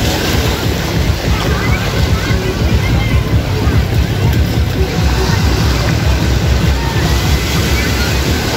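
Beach surf rolls and sloshes continuously, close and loud, with wind buffeting the microphone and a voice speaking faintly beneath the water.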